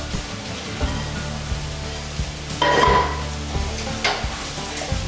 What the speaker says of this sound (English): Shut the heat off, just stir this all in.